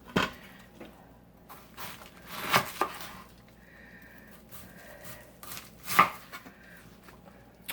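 A knife slices through a cabbage on a cutting board, a few sharp crunching chops scattered among quieter rustles and taps, close and fairly soft.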